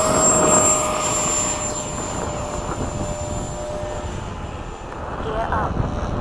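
An FMS 80mm Hawk RC model jet climbs away after a touch and go, its broad engine roar loud at first, easing and then swelling again, with a high whine over it and voices talking nearby.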